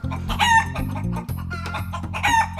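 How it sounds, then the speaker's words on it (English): Chickens cluck steadily in an outdoor run, with a rooster crowing twice over the flock; the birds are close and fairly loud, and no voices are heard. "The chickens are all put in a new run under the moringa tree"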